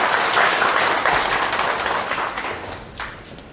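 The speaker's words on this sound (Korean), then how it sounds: "스마트업 파트에게 큰 박수 부탁드립니다" A burst of audience clapping for a presenting team at a company quality competition, loud at first and then tapering over a few seconds.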